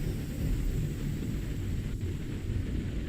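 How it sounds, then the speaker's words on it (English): Thunder in a video game, a deep continuous rumble with a broad noisy wash, fairly faint and steady with no distinct crack. "Boy, we got some thunder and lightning."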